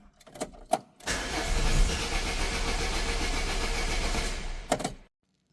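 A Renault Clio 1 starter cranks its engine in one long, steady, droning burst of about four seconds, close and fairly loud, with a few clicks and knocks before and after it.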